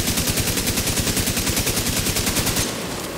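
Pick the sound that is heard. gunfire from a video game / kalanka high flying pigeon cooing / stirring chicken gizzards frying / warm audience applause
gunfire from a video game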